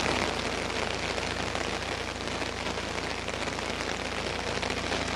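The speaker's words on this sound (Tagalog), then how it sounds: "nagsimula na namang bumuhos yung malakas na ulan dito" Heavy typhoon rain pours down in a dense, continuous roar of broadband hiss, steady and loud throughout with no voices.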